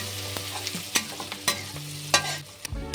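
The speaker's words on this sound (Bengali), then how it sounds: "মিশিয়ে একটু ভেজে নেবো।" Coriander stems and grated ginger stir-fry in a pan for dal makhani, with a soft steady sizzle broken by sharp spatula scrapes and clacks against the pan at an irregular pace.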